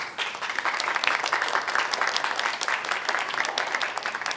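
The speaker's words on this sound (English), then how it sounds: "Another big round of applause." An audience at a fireside chat on plastics and the planet breaks into lively applause, thick overlapping claps rising quickly and holding steady for a few seconds before tapering off.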